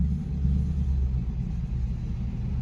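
A Briggs 206 flat kart engine fitted with shotgun exhaust pipes runs at a steady idle, giving a close, continuous low rumble with no voices.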